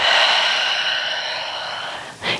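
A long, steady breath out during a yoga stretch, airy and close, fading before a short, sharper puff of air at the end.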